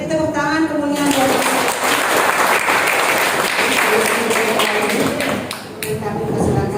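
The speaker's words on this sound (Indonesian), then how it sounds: "Beri tepuk tangan kemuliaan buat" A church congregation at a women's commission anniversary service bursts into loud, sustained applause after a voice speaks, the clapping dense and close, easing briefly before swelling again.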